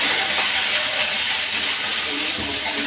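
Potatoes and onions frying in a home kitchen pan, a continuous loud broadband sizzle and hiss with slight fluctuations throughout.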